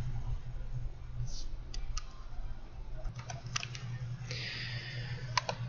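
Computer keyboard keys click in sparse, scattered taps, ending with a firmer keystroke like the enter key, while a voice talks quietly underneath.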